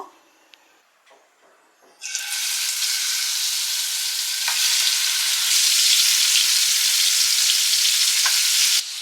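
After a few quiet knocks, ghee and oil hit a hot pan for prawn ghee roast and burst into a loud, steady, hissing sizzle that holds until the end.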